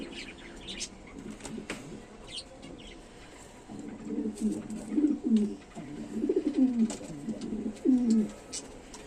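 Black Serazi running-pair pigeons coo in low throaty rolling bursts close by, growing louder in the second half, with faint wing flutters, chirps and background noise throughout.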